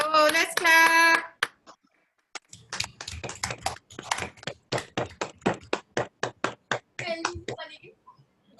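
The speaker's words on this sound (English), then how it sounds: "So let's clap." A church congregation clapping hands together in a steady, rapid rhythm for several seconds, following singing voices at the start and ending with more singing and a few scattered claps.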